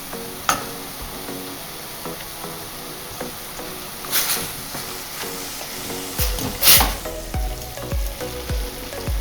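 Chopped garlic sizzles and fries steadily with vegetables in a pan for a ragù-style Bolognese, with a few sharp stirring scrapes and louder spatters near the end.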